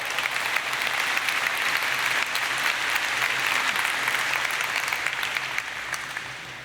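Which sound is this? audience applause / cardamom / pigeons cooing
audience applause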